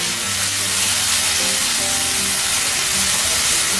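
Spices splashed with a little water in a hot pan and stirred together, giving a loud, continuous hissing sizzle close by with faint stirring underneath.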